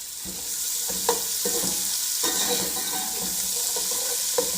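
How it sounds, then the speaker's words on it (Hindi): Carrots, capsicum and garlic stir-fried over high heat for a Chicken Manchurian recipe, a steady sizzle with repeated scraping clicks of a spatula against the pan. "3 से 4 मिनट हमने इनको फ्राई करना है तेज़ आंच पे।"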